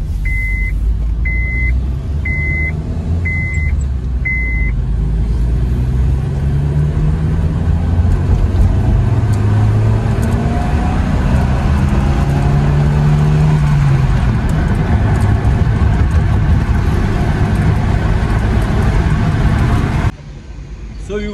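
A Honda Civic VTi Oriel's VTEC engine running steadily up close, its low drone continuous throughout, with five short electronic beeps near the start and someone talking over it.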